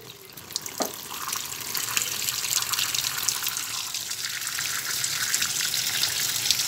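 Water gushing steadily into a Suggar Lavamax 10 kg semi-automatic washing tub while filling for a rinse, a continuous close splashing flow that holds throughout with a brief thump near the start.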